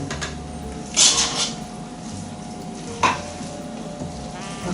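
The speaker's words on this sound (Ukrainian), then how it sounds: "Зараз ми перемішаємо все." A zucchini casserole mixture with parsley is stirred in a bowl, giving a constant soft, moist churning. Two brief clinks of the utensil against the bowl stand out, and no one speaks.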